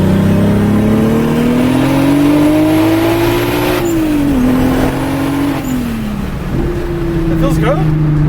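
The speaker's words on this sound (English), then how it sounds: "You can hear the turbo spooling." A turbocharged Volkswagen VR6 on air suspension pulls while driving, its engine drone rising and falling through gear changes, with turbo spool in the mix and voices talking faintly over the loud, close engine.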